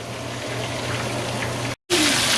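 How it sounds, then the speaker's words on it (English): Water being poured into a cooking pan, a steady close rushing pour with no voices, cut off by a brief gap and then resuming louder. "I'm going to add the seasoning packet and also 2 1/4 cups of water"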